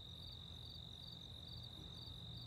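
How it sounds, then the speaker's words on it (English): Crickets chirp in a steady, continuous high trill on a beach at dusk in Sea Isle City, New Jersey, fairly faint and alone with no talking. "Listen to those crickets."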